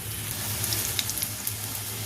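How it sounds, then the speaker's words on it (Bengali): Mustard flower pakoras frying in hot oil, a continuous bubbling sizzle with soft crackles and a few light pops, close and fairly quiet. "সব পকোড়াগুলোকে আমি এক এক করে সব ভেজে নেব"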